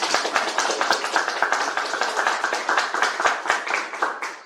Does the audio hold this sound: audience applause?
yes